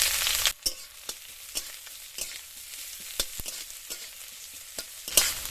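Chopped onions fry in hot oil with bay leaves, a dried red chilli and whole garam masala for a poultry skin and eggplant curry, a steady close sizzle broken by sharp clicks of a spoon stirring the pan.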